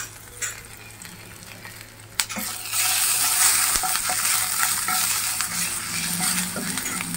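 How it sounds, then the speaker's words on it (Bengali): Ginger dropped into hot oil in a home kitchen pan, first a few quiet stirs and clinks, then a sharp burst into steady loud sizzling with scraping stirring sounds running to the end. "তেলটা গরম হয়ে গেছে, আদাটা দিয়ে দিলাম।"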